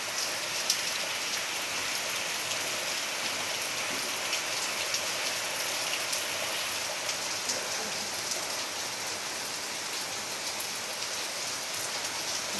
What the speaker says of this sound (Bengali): ঝড় সেরকম হচ্ছে না বৃষ্টিটাই হচ্ছে